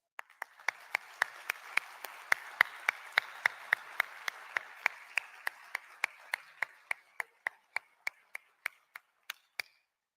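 Slow, evenly spaced claps from what sounds like a single person or a small group at the World Scout Conference, about two dozen sharp claps over a soft wash of wider applause that thins out and stops near the end.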